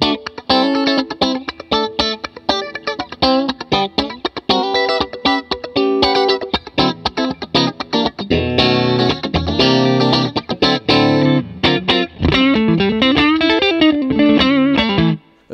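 Electric guitar played through the vintage Blackface-style channel of a Fender American Special Mustang amp with two 6V6 tubes, loud and continuous, a mix of chords and single-note lines with effects coloring and slight drive, no talking.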